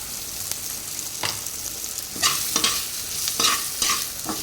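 Freshly caught fish fries in a pan with turmeric powder as a spatula stirs and scrapes in repeated strokes over a steady, close sizzle.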